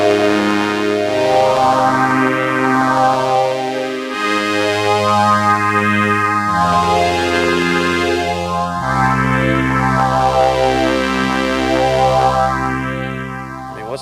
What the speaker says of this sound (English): Now, chorus. This thing gets really big with this.